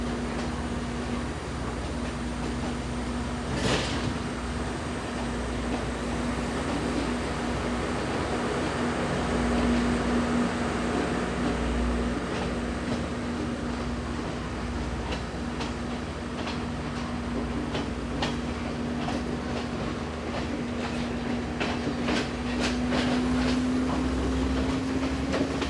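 Passenger train running on the Colombo to Kandy line, a steady close rumble of wheels on rails with a constant mechanical hum and scattered light clicks and rattles, no voices.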